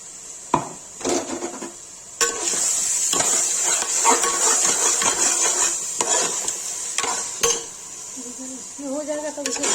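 Ground tomato with turmeric frying in a kadhai for restaurant-style kadhai chicken, stirred with a spoon so it scrapes and rubs against the pan under a steady sizzle, close and fairly loud.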